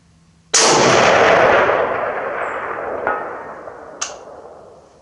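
A single loud Springfield M21 rifle shot fired at a 300-yard target, a sharp crack followed by a long rolling echo that fades over several seconds, with two faint distant knocks trailing after.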